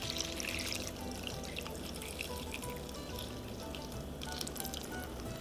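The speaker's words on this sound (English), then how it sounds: "Now we're just gonna strain the bonito flakes." Dashi broth is strained through bonito flakes, making a soft, continuous pouring trickle with light drips, faint and close, with no voices.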